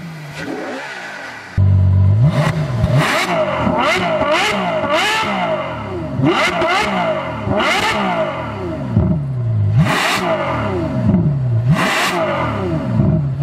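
A Ferrari F12 Berlinetta's 740-horsepower naturally aspirated V12 bursts to life and is blipped repeatedly, sharp loud revs rising and falling in quick succession over a steady idle, close by with no talking.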